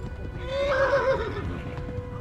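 A horse whinnies once in the video game Kingdom Come: Deliverance, a rising and falling neigh of moderate loudness, with faint hoof clatter and ambient noise beneath.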